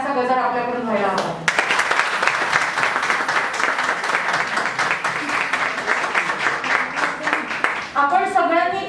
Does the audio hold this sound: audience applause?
yes